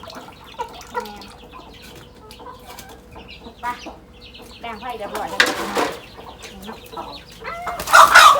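Chickens cluck and squawk nearby in short bursts, growing louder toward the end, while a person talks over them.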